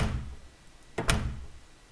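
A door closing sound effect from the Unity HorrorFPS Kit, a single solid thunk with a quick double impact, heard alone and fairly loud after a brief lead-in of low rumble.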